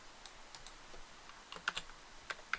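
Keys on a computer keyboard pressed in short, scattered clicks, a few light taps and then a quicker cluster of firmer strokes as a shortcut is entered to run a C# program, close and alone.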